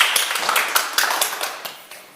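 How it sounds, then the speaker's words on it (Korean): An audience claps at a Buddhist temple talk, with scattered sharp claps that fade gradually over about two seconds. "큰 박수 부탁드립니다."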